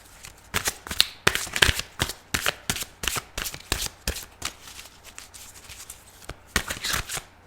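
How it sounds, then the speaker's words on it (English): Playing cards are shuffled repeatedly, a rapid series of crisp riffling bursts and slaps, close and fairly loud, with no talking. "I shouldn't have kept shuffling."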